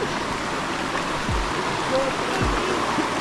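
Steady rushing of a river flowing close and continuous, like a stream running over rocks.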